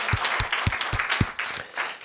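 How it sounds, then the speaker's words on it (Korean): A small church congregation applauds in thanks to God at a thirteenth-anniversary service, scattered clapping with several distinct claps standing out, brief and fairly close. "네, 다시 한번 주님께 감사의 박수를 드립니다."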